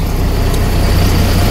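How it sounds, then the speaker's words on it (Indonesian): A Makkah public bus pulls up at a stop in front of a hotel, its loud, steady engine rumble and road noise filling the scene without a break. "Ini contohnya bisnya ini ya yang datang ini bis Mekah ini namanya"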